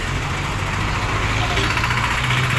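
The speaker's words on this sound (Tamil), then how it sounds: "சரியான டிராஃபிக்கு" Road traffic at the entrance of the Thanjavur Big Temple, a steady low rumble of idling and passing engines close by, loud and continuous, with a voice talking over it.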